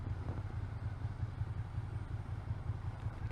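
A Honda motorcycle engine hums steadily on a short Sunday ride, a continuous low mid-pitched drone that holds even and close throughout with no voices over it.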